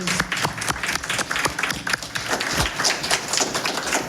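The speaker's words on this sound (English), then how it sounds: "Maybe we can give them a round of applause." An audience claps for the panelists at the close of a First Amendment Day panel, dense, even applause from a room of people that holds steady and fairly loud from start to finish.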